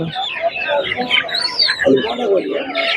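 Chickens, including Sonali-type birds, cluck and squawk continuously at a large open-air poultry market at Kundrapalli, overlapping and close, while people talk nearby.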